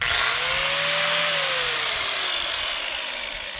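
An angle grinder, 4- or 6-inch, fitted with a soft sanding wheel grinds wood on a house-building job, a loud steady whine with a slowly falling pitch that fades slightly toward the end.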